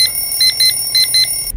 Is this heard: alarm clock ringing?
yes